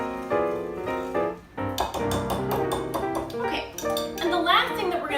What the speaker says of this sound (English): And stir that together.